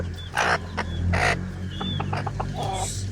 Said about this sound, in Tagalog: So andito tayo ngayon sa ating munting manukan.